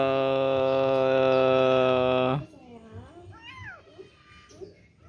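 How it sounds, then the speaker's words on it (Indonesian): A snub-nosed cat gives one long, steady, loud meow lasting a couple of seconds. After it, a person talks softly. "Kucingnya pesek."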